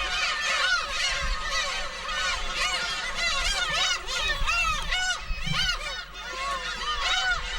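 Black-tailed gulls squabbling around their nests in a breeding colony, a loud, dense chorus of overlapping harsh, nasal cries and honking calls, some close and some further off, continuing throughout.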